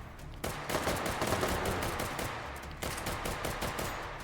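A semi-automatic ACR rifle fires in a video game, a loud, close string of quick single shots in two bursts separated by a brief pause.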